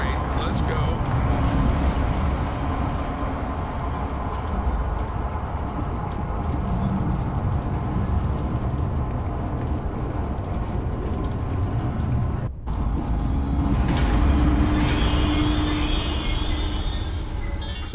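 A train in the video game Zoochosis starts and runs toward the giraffe enclosure, a steady loud rumble and rattle of wheels, broken by a brief cut midway, with a voice talking over it.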